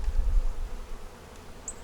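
Honey bees hum at an opened hive, a low steady buzz close by with no voices.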